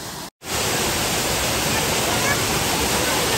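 Edralin Falls waterfall gives a steady, dense rushing roar of falling water, close and loud, broken only by a brief dropout near the start before the roar continues unchanged.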